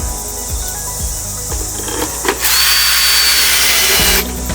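A power drill drives screws to mount a possum trap, with short revving bursts and then a sustained loud whirring drive of nearly two seconds that cuts off abruptly, close by.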